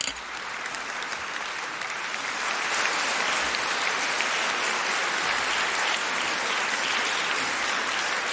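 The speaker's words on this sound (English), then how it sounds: "the round of applause is for Akilo St. Charles, the motion opposer" A debate audience at a quarter-final on labour unions gives a long, dense round of applause for a speaker, the clapping holding steady and swelling slightly louder partway through.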